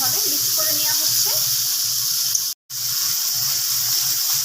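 Water poured into a hot pan of tomato, salt and spices for a gurjali fish curry makes a loud, steady sizzling hiss that briefly cuts out, then resumes.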